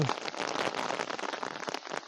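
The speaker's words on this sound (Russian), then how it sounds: "Целый день так муружил этот дождь, муружил." Steady rain falls in a countryside village, pattering densely and evenly on surfaces close by. The sound is a continuous hiss with no pauses.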